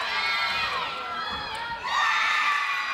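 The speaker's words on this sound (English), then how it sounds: "those are the Cornell teammates that are cheering on and taking her in as one" Cornell teammates cheer a gymnast at the women's USAG collegiate gymnastics championships, letting out loud, high-pitched shouts and whoops that dip briefly and then surge again.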